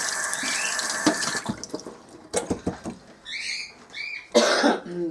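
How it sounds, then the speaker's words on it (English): A kitchen tap runs briefly as hands are rinsed while canning corned beef hash. The water gives way to coughs, throat clearing and scattered clinks and drips nearby. "I'm going to rinse my hands off."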